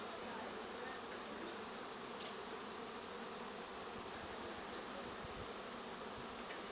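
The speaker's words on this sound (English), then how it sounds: "There's a bee's nest decided to land in our front yard." A bee swarm settled in a front yard near a house, producing a continuous, dense buzzing drone that holds steady and fairly loud the whole time with no voices.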